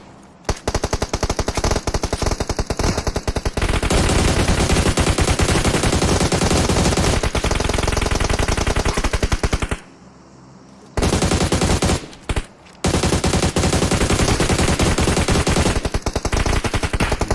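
Rapid automatic gunfire rattles in a video game pan-fight, long loud bursts of fast shots broken by brief pauses and a short silence before the firing resumes.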